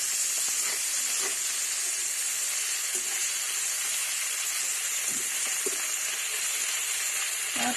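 Adobong kangkong (water spinach) sizzles and fries steadily in a hot pan while being stirred, with a continuous bright hiss and occasional soft scraping knocks of the utensil, no one talking.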